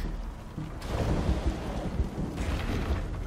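Rumbling thunder with steady rain from a storm in the Spider-Man 2 video game, a broad continuous roar that swells and rolls for several seconds, loud and close, with no talk.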